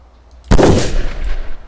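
A single loud, sharp sniper rifle shot in a multiplayer FPS video game, hitting with a sudden heavy blast and then a rumbling tail that fades over about a second.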